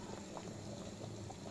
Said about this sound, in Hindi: सब्ज़ी हमारी उबल रही है